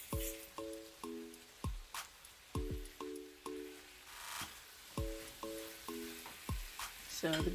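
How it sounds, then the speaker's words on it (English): Beef sizzles in a pan while a metal utensil repeatedly clinks and scrapes against it in an irregular stirring rhythm. "So the beef has been frying for a while"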